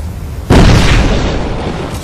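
A grenade goes off in the video game Fable III, a sudden loud, close blast that strikes after a brief moment of quiet and then fades out in a rumbling tail.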